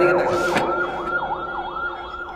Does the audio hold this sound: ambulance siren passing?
yes